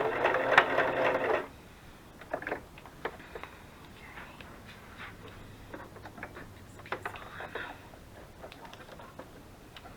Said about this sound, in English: I think I'm going to sew it real quick.